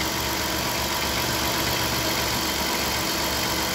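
A car engine's alternator heard up close through a mechanic's stethoscope, giving a steady, dense, loud mechanical whir and hum with an even idling rumble and no voices.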